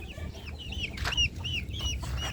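Hens clucking close by, with chicks cheeping in quick high chirps over low soft clucks; a farmyard chorus, fairly quiet and continuous.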